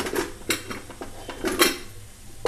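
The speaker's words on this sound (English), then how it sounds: "open the lid of the pressure cooker" A pressure cooker lid is opened after cooking gongura mutton, with a few close metallic clinks and clatters of the lid and pot spread over a couple of seconds.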